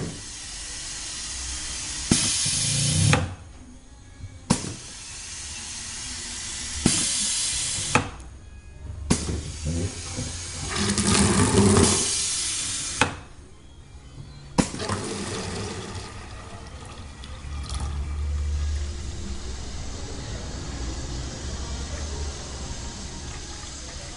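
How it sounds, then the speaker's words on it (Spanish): A pressure sprayer fires several short dry bursts to purge air from its hose, with sharp hissing spurts separated by pauses, followed by a steadier, softer hiss and faint background noise. "Con eso vamos a purgar todo el aire de la manguera."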